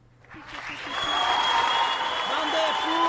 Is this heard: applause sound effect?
yes